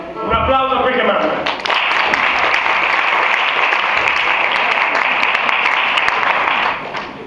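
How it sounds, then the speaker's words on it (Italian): Festival crowd at an outdoor song festival in a town square applauds steadily and loudly, a dense wash of clapping that starts after a brief voice and fades near the end. "Un applauso a quel che mangia."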